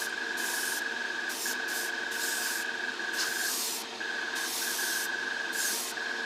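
An airbrush sprays matte clear coat onto a Tamiya 1:35 scale Russian T-55A medium tank model, giving a steady close hiss in repeated bursts of about a second each, with brief pauses between passes.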